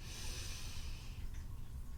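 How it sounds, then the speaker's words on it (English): A deep, steady inhale drawn through the nose during Kundalini breathing in a spinal flex practice, close and breathy, lasting about two seconds with no other sound. "Inhale"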